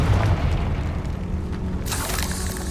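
A Confringo blasting spell cast in Hogwarts Legacy gives a loud, deep boom, then a bright crackling burst that rolls on and fades over a steady game rumble.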